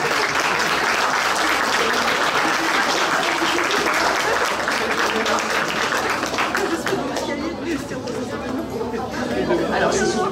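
An audience at a cosplay contest during a sci-fi convention applauds a contestant, sustained dense clapping mixed with crowd chatter, loud and continuous throughout.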